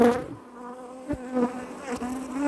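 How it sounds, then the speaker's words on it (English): Africanized honeybees buzzing close around a beekeeper during brood frame work, a steady drone with a few louder passes near the listener and no talking. "the bees that just buzzing around me a little bit"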